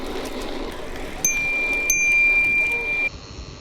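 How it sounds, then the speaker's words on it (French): A bicycle bell rings briefly over steady road and wind noise while riding a gravel bike on a long-distance trip, with a thin tone that holds for a couple of seconds. "C'est important d'avoir une sonnette."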